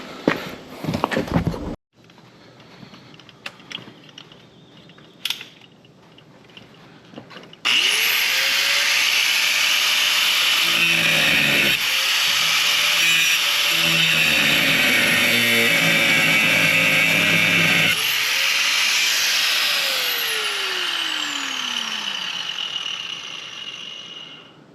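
An angle grinder with a cutoff wheel cuts into the steel of a 1959 Ford Fairlane, a loud steady whine that rises as the disc bites and holds for over ten seconds after a few short bumps and clanks.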